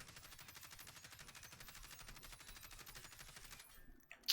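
Kilo assault rifle fire in the shooter game Call of Duty: Warzone, a fast unbroken automatic burst of rapid regular shots at moderate volume that stops abruptly near the end.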